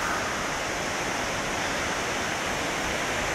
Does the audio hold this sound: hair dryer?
no